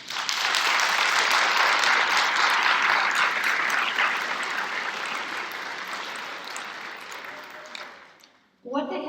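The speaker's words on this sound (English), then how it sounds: "So can all of our guests just give them a round of applause?" Guests at a nurse pinning ceremony give graduates a sustained round of applause, dense clapping that gradually fades over several seconds before a voice resumes at the end.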